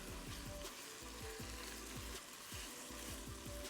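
Beef with green peppers in black bean sauce stir-fries in a hot wok, a constant loud sizzle broken by quick, regular scraping strokes of the utensil, with no voices.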